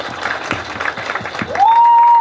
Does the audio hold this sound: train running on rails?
no